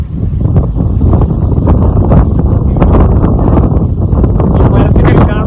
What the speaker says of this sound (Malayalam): ഇന്നിവിടെ ഭയങ്കര കാറ്റാണ്.